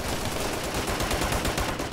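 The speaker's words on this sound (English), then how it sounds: "We're taking heavy fire!" Dense, continuous automatic gunfire in the video game Operation Flashpoint Red River, a loud, rapid rattle of overlapping shots with no pauses.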